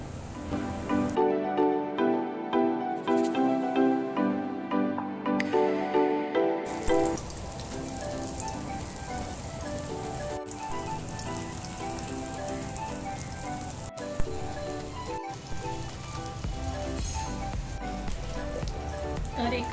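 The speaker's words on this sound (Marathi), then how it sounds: "आता आपण फिश तेलामध्ये सोडूया" Fish coated in rice flour and semolina frying in hot oil gives a steady, dense crackling sizzle that carries on alone over background music.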